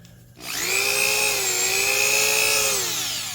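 A DeWalt DW257 all-purpose high-torque deck screw setter spins up sharply and then holds a smooth, steady electric motor whine for about three seconds, loud and close, with no talk.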